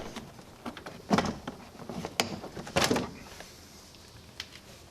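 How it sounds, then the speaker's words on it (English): Interior door panel being pried and pulled off the door of a 2007 Toyota Yaris, with a few sharp plastic clip pops and snaps, the two loudest near each other, among softer rustles and scrapes at close range. "Now we can remove the door panel. Just pull the bottom toward you slightly and lift."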